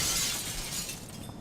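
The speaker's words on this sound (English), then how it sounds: "I want to smash all this glass, though, if I can." Glass shattering in the skateboarding video game Tony Hawk's Underground 2, a loud bright crash with tinkling debris that decays over about a second.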